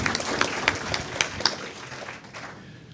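An audience at an education entrepreneurship panel event applauds with dense clapping that thins out and fades over a few seconds, heard from within the room.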